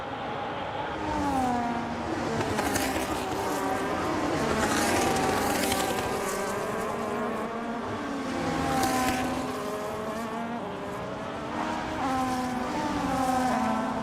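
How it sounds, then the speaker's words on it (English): Racing cars roaring around Silverstone in a racing video game, with loud, continuous engine notes that rise and fall as the cars shift gears and pass, filling the whole stretch with no talking. "You can't hear my voice over the cars."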